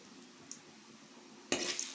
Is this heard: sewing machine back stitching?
no